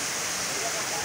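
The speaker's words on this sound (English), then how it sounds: "Kintampo waterfall. Very beautiful area." Rushing water at Kintampo waterfall roars as a steady, loud broadband wash with no pauses, filling the short moment with constant spray and churn.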